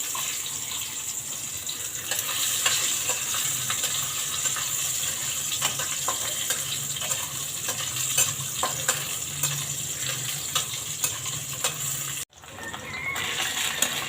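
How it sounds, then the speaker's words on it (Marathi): Soaked, peeled peanuts fry in a spoonful of ghee in a kadhai, giving a steady, close sizzle with stirring scrapes for about twelve seconds, a brief cutout near the end, then the sizzling resumes. "कढईमध्ये तूप टाकलं आपण, शेंगदाणे परतून घेतले"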